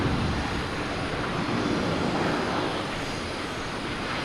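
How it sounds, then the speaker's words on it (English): A Lufthansa Airbus A340 taxis out at Boston Logan Airport, its jet engines giving a steady, broad roar that holds level throughout with no other sounds on top. "We have the Lufthansa A340 coming out as well."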